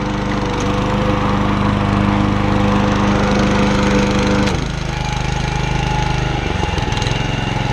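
A John Deere JE75 riding lawn mower engine runs loud and close with a steady droning rumble, its pitch dropping briefly partway through before settling back, and no one speaks.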